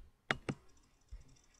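Computer mouse clicks: two quick, close clicks, then a softer tap and another click in a quiet room.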